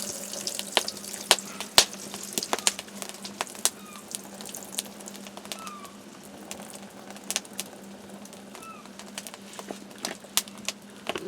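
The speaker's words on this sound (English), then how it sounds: "First thing I gotta do is drain off the old water." Old water poured and drained from a pot of potatoes outdoors on a back step, a steady splashing trickle with scattered sharp clinks and knocks of the pot throughout.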